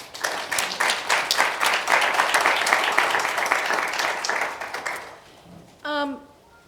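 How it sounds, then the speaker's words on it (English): An audience at a panel on the economic contributions of African descent women applauds the event organizers, a full, steady round of clapping that fades after about five seconds before a single voice speaks. "I think we should give them a round of applause"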